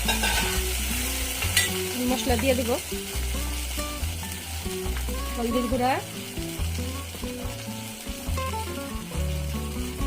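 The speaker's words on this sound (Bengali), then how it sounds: "মাছের সাথে অল্প ভাজা হয়ে গেছে" Tilapia fish frying in a pan with turmeric and other ground spices being stirred in, a soft continuous sizzle with stirring under a speaking voice and background music.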